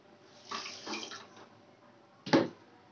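A bowl of water poured into a pan for a boondi recipe, a brief splashing pour, a pause, then a second short gush, close and moderately loud with no voices.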